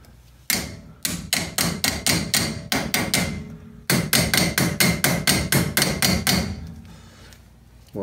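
A hammer taps a dust cap onto the front brake rotor hub of a small-body AMC Gremlin or Hornet: about sixteen sharp, close metallic strikes in two quick rhythmic bursts, separated by a brief pause.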